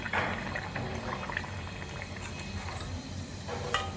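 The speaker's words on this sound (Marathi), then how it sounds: "पुरी सोडताना अशी 2 हाताने, ज्यांना सवय नाही त्यांनी व्यवस्थित सोडा, कारण घडी झाली ना तर मग नीट तळली जात नाही" Puri sizzling and bubbling as it fries in hot oil, a steady frothy crackle with a few louder pops near the end, close and continuous with no talking.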